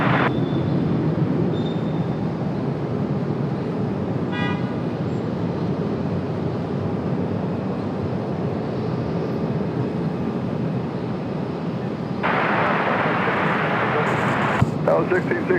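United flight 630, an airliner departing Raleigh-Durham airport for Chicago O'Hare, makes a sustained broad engine roar heard from a distance. A brief whistle-like tone comes partway through and a hiss rises near the end.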